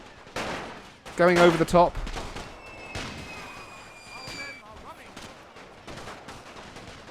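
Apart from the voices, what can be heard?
gunfire from stormtroopers in Total War video game WW1 mod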